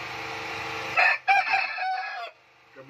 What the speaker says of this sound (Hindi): ये मैं मुर्गियाँ भी आप दोस्तों को दिखा दूँ, ये मुर्गियाँ हैं